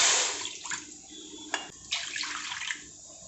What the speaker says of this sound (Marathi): 2 वाट पाणी घेणार आहोत